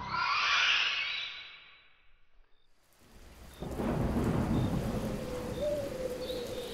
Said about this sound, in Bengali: সেই ঝড় বৃষ্টির রাতে